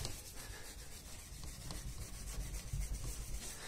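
A clay bar rubs over tri-coat car paint during scratch correction, giving a steady, close, gritty scrubbing with repeated back-and-forth strokes and no talk.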